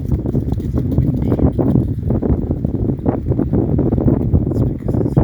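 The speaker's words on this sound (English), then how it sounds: "It's windy." Steady wind roaring and buffeting close to the microphone, loud and continuous throughout, with low rumbling gusts.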